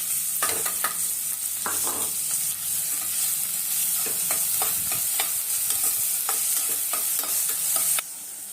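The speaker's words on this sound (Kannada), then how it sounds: "ಈರುಳ್ಳಿ ಚೆನ್ನಾಗಿ ಫ್ರೈ ಆಗಿದೆ" Finely chopped large onion frying in a pan for a chicken ghee roast, a steady sizzle with repeated scraping and stirring strokes of a spoon, close and continuous.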